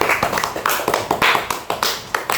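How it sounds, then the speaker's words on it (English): A small group of podcast participants clapping, with sharp, separate hand claps landing in a loose, uneven rhythm close by and no talking. "Give applause to us."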